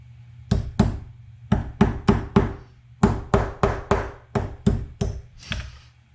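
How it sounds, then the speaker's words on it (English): Sharp hammer taps on a metal part during a 1967 E-Type carburettor rebuild ring out in quick clusters of two to five, about fifteen strikes in all, loud and close with brief pauses between groups. "Should we use a hammer instead?"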